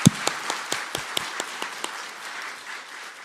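A church congregation at a Sunday service gives a short burst of clapping, with a few distinct rhythmic claps at first that quickly blur into a brief wash of applause and then fade.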